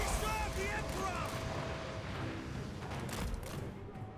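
Massed gunfire from a firing squad in a Warhammer-style battle video game, a dense rolling crackle of overlapping shots that keeps going without a pause, with a voice speaking over part of it.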